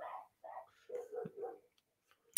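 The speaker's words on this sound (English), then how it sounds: "Oh no, it's just the dogs outside." Dogs bark outside in several short, muffled bursts with brief pauses between them, fairly faint and distant, followed by a sharp click at the end.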